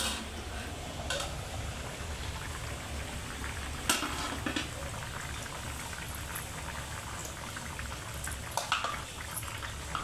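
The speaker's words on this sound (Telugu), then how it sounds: "మూత పెట్టుకొని ఒక పది నిమిషాల వరకు ఉడికించుకుందామండి చికెన్ అయితే మనకు ఉడికిపోయిందండి" Chicken pulusu curry simmers in a covered pot, a steady, soft bubbling boil with a few faint clinks from the pot.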